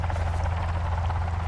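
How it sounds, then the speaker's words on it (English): Helicopter in the video game Sons of the Forest, a steady low rotor drone holding evenly throughout, moderately loud with no talk over it. "Hey, it's a helicopter!"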